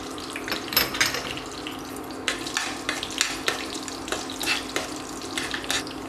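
Mustard seeds and crushed garlic frying in hot oil, a continuous sizzle with scattered sharp pops and crackles rising and falling, with occasional stirring and a faint steady hum underneath.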